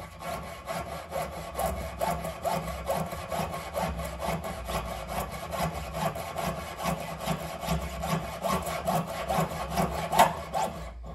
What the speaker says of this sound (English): So it looks like we're going to have to saw it off there and there